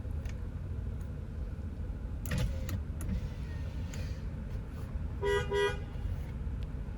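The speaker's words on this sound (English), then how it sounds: "Very nice horn" A 2020 Toyota Camry SE sounds its horn in one short, clear, tonal honk near the end, preceded by a few faint clicks inside the car over a quiet low hum.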